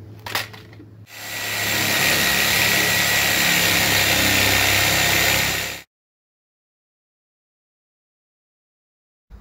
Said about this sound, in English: Sawzall.